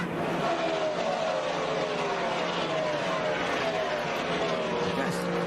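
A NASCAR Cup Series race car engine roars at high speed during a crash, about 140 mph while sliding backwards, a sustained loud drone with falling pitch sweeps like cars passing, under a commentator's voice.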